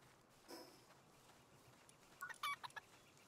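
Chicken clucking in the video game Palworld: a few short, soft clucks near the end over a quiet background hum, with one faint broader sound earlier.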